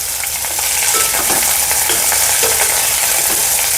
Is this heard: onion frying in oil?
yes